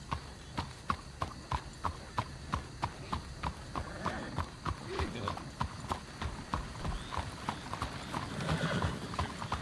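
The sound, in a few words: horse hooves clip-clopping in Red Dead video game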